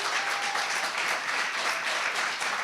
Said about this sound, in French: j'aimerais qu'on donne une bonne main d'applaudissement à Marie-Ève Leblanc qui a écrit le texte